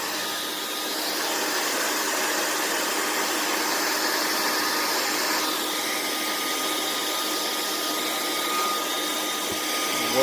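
A heat gun blows steadily while warming a rubber Talon grip on a Glock 17 Gen 4 pistol, a constant close whooshing hiss whose tone shifts slightly midway, with no talking.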